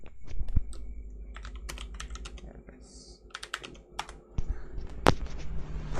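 Keys clatter on a computer keyboard as network configuration commands are typed into a Mikrotik router's command line, a run of quick close clicks in uneven bursts with a low background hum beneath.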